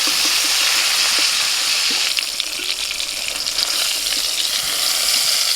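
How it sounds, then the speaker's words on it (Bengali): Tender pointed gourd (potol) frying in hot oil, a loud, steady sizzle with occasional stirring scrapes and crackles throughout. "একদম কচি পটল, ভাজতে ভাজতে এত নরম হয়ে গেল পটলগুলো।"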